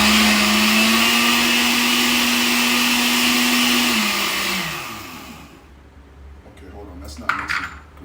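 A blender mixes a smoothie of bananas and freshly squeezed juice, its motor roaring loud and close for about four seconds, then winding down in pitch and fading to near quiet, followed by a few rattles and knocks, with someone speaking nearby.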